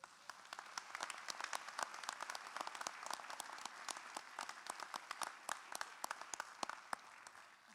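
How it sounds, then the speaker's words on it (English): Audience applause at a university presidential installation ceremony for the inauguration committee and volunteers, a steady run of many hands clapping with sharp individual claps standing out, moderately faint and with no voices. "Could we give them a round of applause?"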